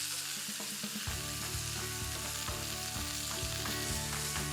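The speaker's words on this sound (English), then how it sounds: "I just need to move these little pieces of pork around in the skillet until they're totally seared on all sides" Small pork pieces sear in a hot skillet, a steady close sizzle broken by regular knocks and scrapes as they are stirred and turned, alone with no talk.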